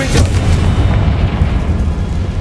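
A Confringo fire spell explodes in Hogwarts Legacy on PS5, a loud, booming blast with a sharp onset followed by a sustained low rumble, heard alone without voices.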